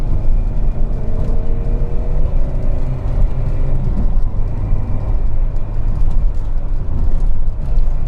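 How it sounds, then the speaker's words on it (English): A Peugeot 405 Mi16 on the move fills the cabin with a steady, loud engine drone and low road rumble, with a faint whine riding above and no voices. "But right now I'm driving the 405"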